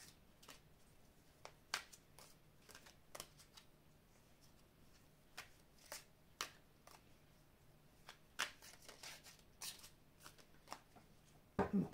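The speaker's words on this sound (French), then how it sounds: "On va étaler les cartes et on va voir ce qu'on nous dit." Oracle cards shuffled and spread out on a table: a quiet series of soft, crisp card slaps and riffles, irregularly spaced, close and fairly faint, with no talking.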